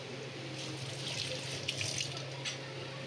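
Tap water runs steadily into a sink, a constant hiss with a low hum underneath and faint splashes as something is rinsed.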